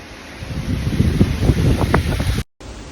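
Steady gusty wind buffets the microphone with a rough, rumbling roar, continuous and close, briefly cutting out near the end.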